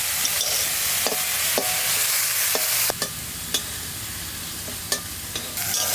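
Winter vegetables with turmeric, green chilli and salt sizzle in a pan as a spoon stirs them. Sharp scraping clicks land every second or so over a constant frying hiss.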